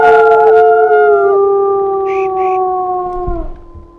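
A wolf in the WolfQuest video game howls long and loud in a sustained, layered tone that slowly drops and fades after about three and a half seconds. A couple of brief higher yips rise over it near the middle, with no talk.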